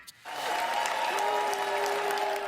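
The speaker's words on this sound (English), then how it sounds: "Amid the cheering and the standing ovation, listen for the booing." Sustained applause and cheering fill a chamber of Congress during a standing ovation, a dense, steady roar of clapping that rises sharply after a brief quiet start and holds loud to the end.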